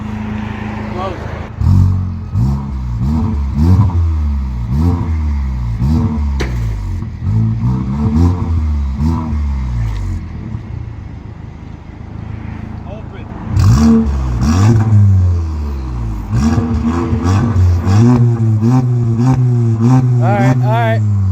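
A Volkswagen Mk7 GTI fitted with an ArmyTrix catless downpipe and catback exhaust revs repeatedly, loud rising and falling blips in quick bursts, with people talking over it nearby.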